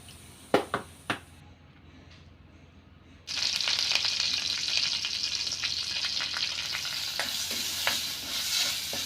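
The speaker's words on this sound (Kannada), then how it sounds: "ಇತ್ತೆ ಕಜಿಪ್ ಮಲ್ಪರೆಗೋಸ್ಕರ ಕುಡೊಂಜಿ ಬಣಲೆಗ್ ತಾರದೆಣ್ಣೆ, ಬೆಳ್ಳುಳ್ಳಿ, ಕೆಂಪು ಮುಂಚಿ, ದಾಸಿಮೆ, ಬೇರ್ ಸೊಪ್ಪು, ಹಿಂಗ್ ಪಾಡ್ದು ಒಗ್ಗರಣೆ ಕೊರಿಯ." Coconut oil tempering with garlic, red chilli, urad dal, curry leaves and asafoetida in a pan. A few sharp clinks come first over quiet, then a loud, continuous crackling sizzle erupts and holds to the end.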